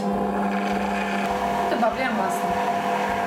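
Steady electric mixer whirring while yolks are stirred into a dough starter for a kulich, a constant loud motor drone with slight pitch shifts as the beaters move through the batter.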